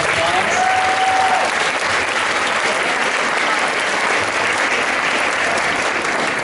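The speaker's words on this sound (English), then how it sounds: "Let's give them one more round of applause" A crowd at a school arts appreciation night gives the high school jazz band and its director another round of applause, loud and close, dense clapping sustained at an even level from start to finish.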